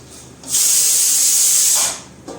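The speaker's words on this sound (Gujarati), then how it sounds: "હવે આપણે એમાં રાખશું ભીંડું આ ટમેટાનો ગ્રેવી છે જે આપણે મસાલો બનાવેલો છે" Okra dropped into hot tomato masala gravy for a Gujarati sabzi sets off one loud, steady sizzling hiss. It lasts about a second and a half and then dies away, with no talk over it.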